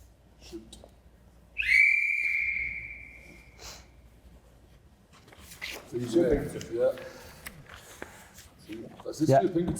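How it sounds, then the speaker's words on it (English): A referee's whistle blown to start a quiz round gives one short, clear shrill blast, followed by rustling, breathing and talk among contestants in a room. "there will be a whistle to start you off, and there'll be a whistle to finish you"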